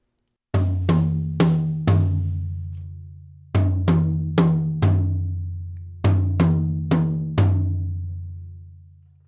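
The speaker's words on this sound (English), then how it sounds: "The next part that gets added are the conga open tones." Rumba guaguancó conga open tones played on a drum kit ring out as resonant, pitched tom hits in short repeating groups, each ringing and slowly fading. They sound close and clear, with no talking over them.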